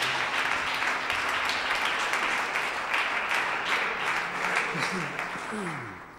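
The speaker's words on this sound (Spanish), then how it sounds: "Denle un fuerte aplauso a Jesucristo" A church congregation gives loud, sustained applause during a worship service, a thick wash of many hands clapping at once that fills the whole stretch and eases slightly near the end.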